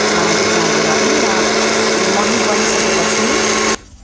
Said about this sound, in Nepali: मिक्सरमा चलाउने बेला छित्रिन्छ